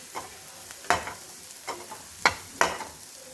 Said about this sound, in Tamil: இதில் மிளகாத்தூள் வாடை போகிற வரைக்கும் நம்ம வதக்கிட்டே இருக்கணும்